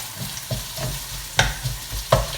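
Onion and crispy bacon fry in a pan, a soft steady sizzle broken by a few sharp stirring scrapes and knocks as the pieces are moved around.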